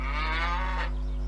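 Cattle in a cowshed: a single loud, close, drawn-out moo over a steady low background hum, with no talking.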